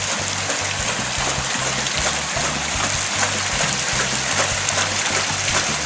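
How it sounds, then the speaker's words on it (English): Water rushing through a small Archimedes screw turbine, a steady splashing churn with a faint rhythmic low thumping from the turning screw, heard close and continuous. "Archimedes screw turbine"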